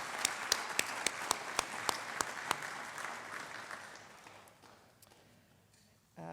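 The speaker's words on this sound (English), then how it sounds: "So I'd actually like to do a round of applause for all of our graduates from last fall and for this spring" At a college spring honors night, an audience applauds the graduates: a dense round of clapping with several sharp, evenly spaced loud claps up front, fading steadily to near silence before a sudden noise at the end.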